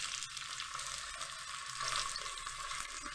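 Chopped tomatoes hit golden-brown frying onions in a pan, giving a steady broadband sizzle that holds level throughout, close and fairly quiet, with no talking.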